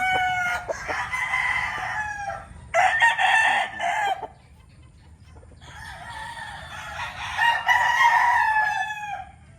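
Roosters and chickens at a gamefowl farm crow in long, loud calls, two bursts early then a longer stretch of overlapping crowing, with quieter farmyard background between.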